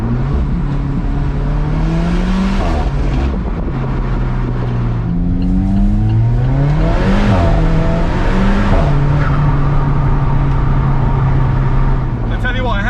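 A loud Alfa Romeo 4C sports car engine revs up and down repeatedly, its pitch sweeping higher under acceleration, with a steady rumbling drone throughout.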